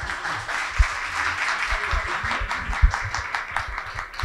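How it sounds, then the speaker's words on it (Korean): An audience at a youth politics networking party gives a round of applause to the moderator and panelists, with many hands clapping in a sustained, even roar and a few sharper claps standing out. "함께해 주신 좌장님과 패널분들께 다시 한번 큰 박수 부탁드리겠습니다"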